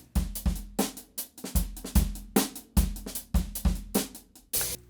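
Unmixed drum kit captured by a room microphone, playing a busy groove of kicks, snares and ringing cymbals, with a distant, roomy, fairly quiet tone.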